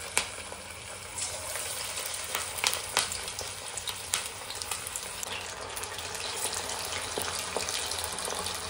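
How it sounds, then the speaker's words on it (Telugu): Marinated chicken 65 pieces fry in hot oil, producing a constant crackling sizzle with scattered sharp pops and spits, close and moderately loud, with no voices. "ఆయిల్ హీట్ అయిందో చూసుకొని అప్పుడు ఒక్కొక్క ముక్క ఫ్రై చేయాలి ఆయిల్లో"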